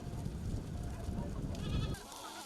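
Goats bleat at a goat farm where they are raised for milk and graze in dispersed pasture, a dense, continuous chorus of overlapping calls with a few clearer cries near the end.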